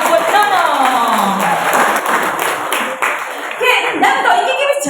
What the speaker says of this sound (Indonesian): Kita kasih tepuk tangan deh buat Nunung.